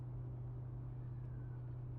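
A car engine in the video game Cyberpunk 2077 hums as a steady, low, even rumble that holds at one level throughout, with no voices.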